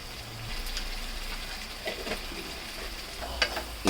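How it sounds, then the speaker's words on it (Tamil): Fish curry masala sizzles in a pan while a spoon stirs and scrapes through it, a steady close frying hiss with a few sharper clinks and scrapes near the end, no voices. "இது மாதிரி நல்லா கெட்டியாக வர்ற வரைக்கும் கிண்டிக்கங்க"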